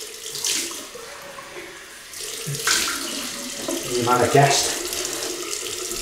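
Cold water runs from a tap into a sink during a wet shave, a steady splashing flow that swells louder in the second half, with brief speech over it.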